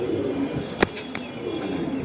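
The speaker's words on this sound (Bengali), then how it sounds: "এগুলো একদম রানিং কবুতর" Pigeons coo softly at a pigeon sale, low repeated murmurs under a busy background with one sharp click partway through.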